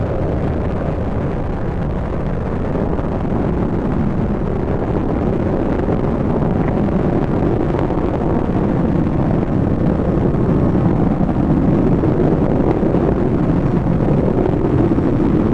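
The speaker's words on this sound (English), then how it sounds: "Engines now revving up, standing by for the throttle up call." Space shuttle main engines roar continuously at launch in the Spaceflight Simulator game, a loud broadband rumble that holds steady and dense, with no other sounds on top.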